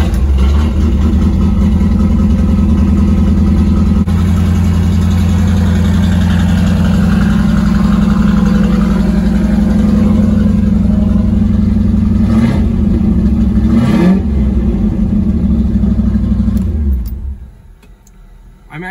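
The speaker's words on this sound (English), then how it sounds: "But this is going to be a cold start." Cold start of a C4 Corvette engine on old gas and old plugs, a loud close rumbling idle that rises in a couple of revs around the middle before cutting off near the end.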